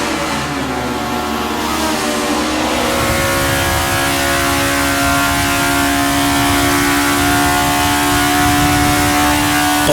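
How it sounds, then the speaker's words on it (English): A 1960s Honda S800 sports car racing at Suzuka in the Assetto Corsa sim, its small engine buzzing steadily at high revs with a rising tone, loud and close, with other cars' engines droning in the background. "let's jump aboard the spectacular Honda S800 and enjoy carving our way through traffic as we race into the sunset"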